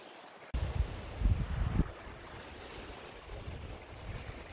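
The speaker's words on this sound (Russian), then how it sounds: "Ветер начался." Wind rises suddenly on the shore of Lake Baikal, gusting in a rough rush over the microphone with waves washing underneath, loudest early and then settling into a steady, moderate roar.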